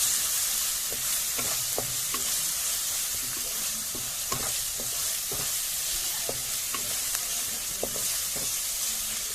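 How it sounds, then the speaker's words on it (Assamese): Ginger, garlic and onion sizzle steadily in hot oil, a constant broadband frying hiss with repeated scraping knocks from a stirring utensil against the pan, close and fairly loud, no talking. "আদা নহৰুখিনি দিয়াৰ পাছত তেতিয়ালৈকে ভাজিম যেতিয়ালৈকে তেল আৰু আদা নহৰু পিয়াজ সকলোখিনি ভালদৰে একেলগ"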